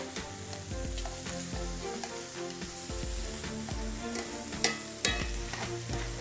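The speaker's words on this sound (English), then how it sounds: "We'll flip our shrimp. They should be cooked on one side." Shrimp, andouille sausage and peppers sizzle and fry in a hot pan, with a steady crackling hiss throughout and occasional scraping stirs and clinks of a utensil against the pan, no voices.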